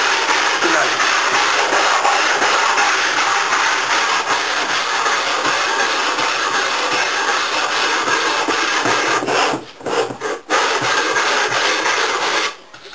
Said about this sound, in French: Alors là, on va poncer, juste avant l'encollage